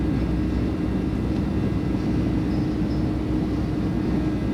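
Boeing 737 engines roar steadily through a takeoff in a flight simulator game, a dense, constant low rumble with no break across the whole stretch and no voices over it.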